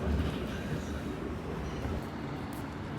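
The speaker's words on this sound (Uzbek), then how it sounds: "Bu yer Tegu shahridagi eng katta vokzal hisoblanadi." Trains at a large railway station in Daegu with high-speed service, a steady low rumble and rail noise that fills the whole stretch, with a faint murmur of voices in the background.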